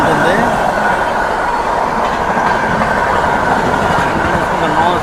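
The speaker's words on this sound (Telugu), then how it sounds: "ట్రైన్ వచ్చేసి మన Navjivan super fast express train అది." Navjeevan Superfast Express, running from Chennai Central to Ahmedabad, passes close by with a steady, loud rumble and rhythmic wheel clatter that holds throughout, with faint background voices.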